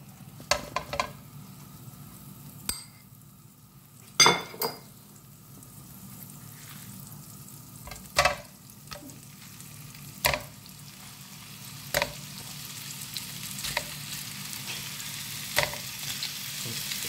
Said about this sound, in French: Donc on va saisir les morceaux de viande à feu vif.